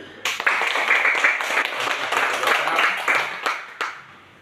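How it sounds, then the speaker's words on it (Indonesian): Primary school pupils in a fifth-grade classroom clap together, a burst of dense, lively hand claps that swells, holds for a few seconds and then tapers off, with a few final claps trailing out. "Mari kita tepuk tangan, berikan aplaus buat teman kita yang bisa membawakan, memimpin kita dalam lagu."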